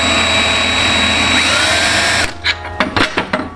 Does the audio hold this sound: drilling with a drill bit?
yes